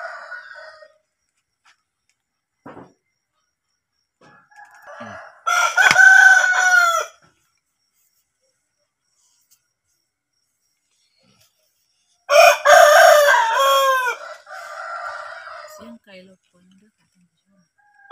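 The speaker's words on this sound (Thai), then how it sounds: "ไก่ก็รบกวนร้ายเนาะไก่กำลังขันเนาะ" A rooster crows twice, loud and close, each crow a drawn-out call several seconds apart, with quieter clucks and someone speaking in between.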